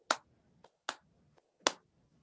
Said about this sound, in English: Big, big, big power clap.